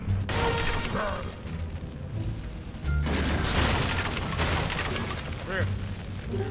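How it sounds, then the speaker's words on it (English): A ship's cannon booms in a video game, heavy blasts repeating over a thick, noisy battle din with a short lull partway through, loud and close. "Fire the cannon!"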